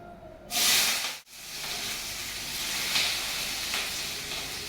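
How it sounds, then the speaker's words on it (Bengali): Loud hissing sizzle of onions hitting hot oil with bay leaf, cloves and cinnamon, a sharp burst at first, a brief drop, then a steady, strong frying hiss. "পেঁয়াজ ভাজাটা লাল লাল হয়ে গেছে"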